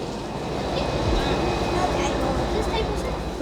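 Low rumble of a train rolling into a station in East Anglia, with rail squeal and mechanical rattling building steadily in the background.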